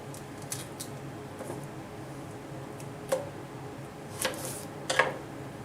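Knife cutting a whole fist-sized onion for a ham and cabbage dish: a few faint, soft crisp cuts spaced irregularly, quiet and close.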